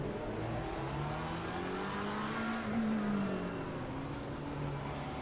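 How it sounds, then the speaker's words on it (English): A GT3 race car in Assetto Corsa Competizione on the Nürburgring drones steadily under load, its engine pitch rising and falling through gear changes with continuous road and wind noise. "These GT3 cars do sound just impressive."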